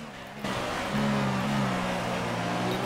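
A Formula 1 car engine in the F1 2016 video game drones loudly and steadily on a flying lap in rainy Australia, its pitch stepping up as it shifts through gears.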